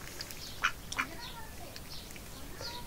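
A duck quacks a couple of short, faint calls in a village mini zoo, with quiet background hiss and no talking.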